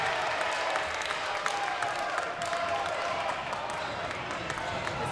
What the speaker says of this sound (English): This Chippewa crowd roaring, hoping he misses this 2nd free throw attempt